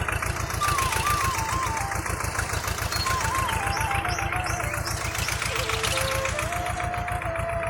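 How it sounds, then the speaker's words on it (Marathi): A tractor engine runs close by during wheat sowing in a field, with a steady, rapid chugging rhythm, loud and continuous, with a faint wavering tone drifting above it. "ट्रॅक्टर चालू"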